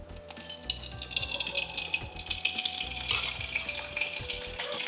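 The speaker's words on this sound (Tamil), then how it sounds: "எண்ணெய் விட்டுருக்கோம் வாணலியில்." Cooking oil is poured into a kadai iron pan on the stove, giving a close, steady hissing trickle with faint bubbling, alone and continuous with a low background hum.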